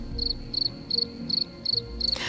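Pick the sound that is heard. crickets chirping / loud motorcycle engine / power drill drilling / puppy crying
crickets chirping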